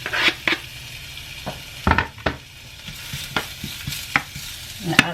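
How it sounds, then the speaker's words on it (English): Chopped onions and small serrano peppers sautéing in a little oil, a soft continuous sizzle with irregular spoon scrapes and knocks against the pan, close and clear with no talking. "I have a little bit of oil in there. Grab my spoon, and I'm going to saute those onions and little serrano"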